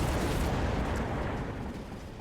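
Oil and fire attack in the strategy game Mechabellum: a dense, rumbling roar of bursts and explosions, loud and continuous, tapering slightly toward the end.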